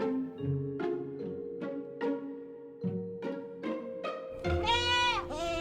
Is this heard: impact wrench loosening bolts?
no